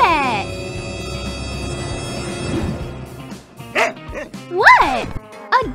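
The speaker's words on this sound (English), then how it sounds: "What? A dog?" An animated dog gives a few short, high yips and barks near the end, loud and close, following a stretch of cartoon music and sound effects with voices talking over it.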